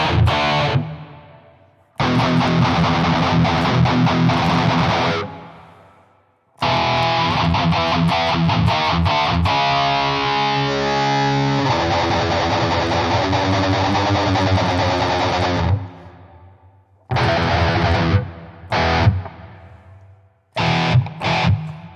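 Distorted electric guitar plays heavy riffs through a series of different cabinet impulse responses in the AnyAmpIR iOS loader, sustained loud chugs broken by short pauses and abrupt tonal changes between sections.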